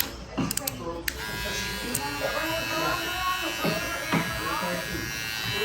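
A Gamma Boosted hair clipper runs with a steady, high electric buzz throughout, close up, while someone talks over it.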